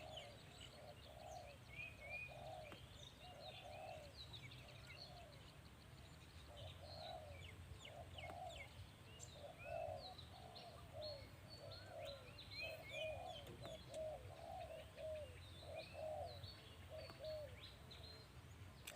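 Repeated bird calls in regular bouts, a low cooing phrase paired with higher chirps, over steady outdoor background noise; no talking.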